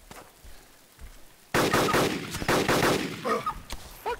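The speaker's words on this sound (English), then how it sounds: "Who's shooting at us?" Gunfire in the video game DayZ Overpoch: a quiet stretch, then sudden loud rapid shots bursting out in quick succession and continuing in irregular volleys, close and sharp.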